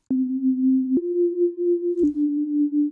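A smooth, steady wavetable synthesizer tone with shimmer effect holding one pitch, stepping up, then dropping slightly, with a faint glassy sheen and a brief click at the change.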